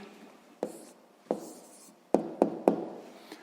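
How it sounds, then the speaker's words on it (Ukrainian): Pen strokes land on paper as someone writes down a maths answer, a handful of short, crisp scratchy taps in an irregular rhythm, close and quiet, with nothing else around them. "Ну що ж, записуємо тоді відповідь."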